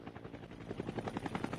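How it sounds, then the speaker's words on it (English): A helicopter in the Call of Duty battle royale game drones with a steady, rapid rotor chop that pulses evenly throughout, moderately loud and without speech. "They might have heard that helicopter, but they're certainly not that close."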